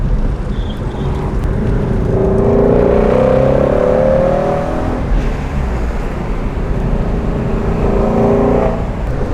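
A Shelby GT350 engine drones and rises in pitch as it revs up through a gear, then settles into a steady whir while driving, loud and close.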